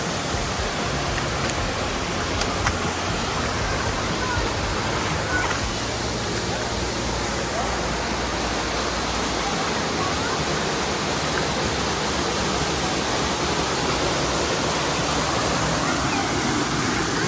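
Peavine Falls at Oak Mountain State Park roars continuously in full flow, a dense, even rush of falling water that fills the whole scene without pause.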